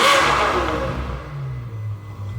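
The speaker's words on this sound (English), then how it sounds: "now we're gonna test the exhaust note, and this is one that the whole world would recognize." A Ferrari FF's 651-horsepower V12 exhaust flares in a sharp, loud rev right up front, then settles into a lower falling drone as the engine winds down toward idle.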